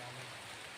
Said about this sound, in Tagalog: umuulan na dito tol, napakalakas yung ulan no.